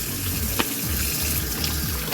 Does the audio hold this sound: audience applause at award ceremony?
no